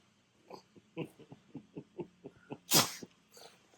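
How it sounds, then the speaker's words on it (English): A small dog snuffles and snorts in quick repeated bursts, then lets out one sharp, louder sneeze before quieter sniffing resumes. "Sneeze."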